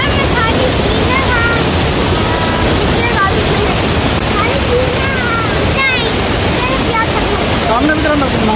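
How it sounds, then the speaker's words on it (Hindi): A waterfall in Switzerland roars loud and close as a continuous, dense rush of falling water, with faint high chirps flickering above the steady wash. "देखें जी वाटरफॉल कैसी खूबसूरत आप नज़र आ रही है आपको"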